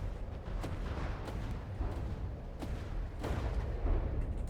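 High-explosive and incendiary advanced cannons firing aboard a warship in From the Depths, soft distant thuds recurring irregularly over a constant low rumbling battle drone, quiet overall.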